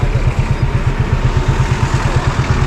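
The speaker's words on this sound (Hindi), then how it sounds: "ये देख रहे हैं, ये हमारी बाइक है जिस पे मैं और ये ताबिश है मेरे साथ ये आए हैं।" Steady motorcycle engine throb on a bike ride toward Shogran in Pakistan, a loud, close, pulsing mid-range drone with clattery rhythm throughout.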